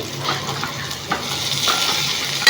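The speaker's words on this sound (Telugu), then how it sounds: "మధ్య మధ్యలో అయితే కలుపుతూ ఉండాలి ఇలా వేగిన తర్వాత ఇందులోనైతే ఒక పచ్చిమిర్చి ఇలా కట్ చేసుకొని వేసుకున్నాము" Okra fries with cut green chilli in a pan while being stirred. A steady close-up sizzle runs throughout, with soft scraping of the stirring spoon and no voices.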